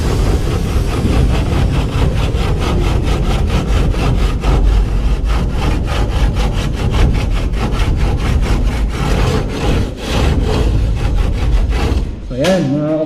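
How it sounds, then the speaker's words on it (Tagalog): A metal furring strip scrapes rhythmically back and forth along a cove to straighten it, producing fast, regular rasping strokes like sawing, loud and close, ending with a short clatter. "Gamit lang itong pangkuskus natin."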